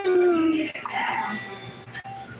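A dog whimpering and whining in drawn-out, wavering high cries that break off, then a few softer whines and a short yip, fairly close and loud.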